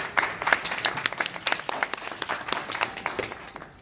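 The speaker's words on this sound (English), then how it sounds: "Let's give him a round of applause." An audience at a church gathering gives a round of applause, made of clearly separate claps from a modest crowd in a loose, steady rhythm.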